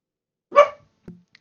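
Puppies give one short, sharp bark followed by a fainter yip, close and isolated against silence.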